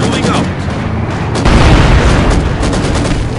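Gunfire at a tank in the video game Company of Heroes 2: dense, continuous battle noise with heavy booms and rattling shots, growing louder and deeper halfway through, loud throughout and mixed with faint voices.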